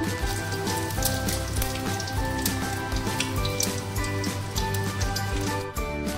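Whole spices temper (phoron) in hot oil for Bengali dhokar dalna. A dense, steady, rain-like crackling sizzle is heard close up and fairly loud, continuous throughout with a faint underlying hum.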